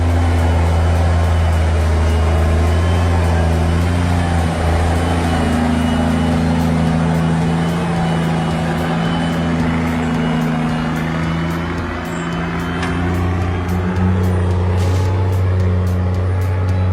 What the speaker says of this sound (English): There's something so primal and beautiful about the sound of a diesel engine.